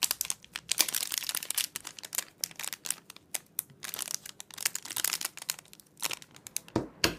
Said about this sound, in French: Un coup de ciseau.